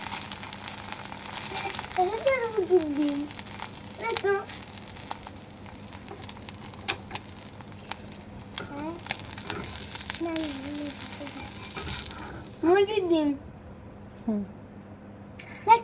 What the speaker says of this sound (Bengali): এবার হচ্ছে ডিমটা ভাজবো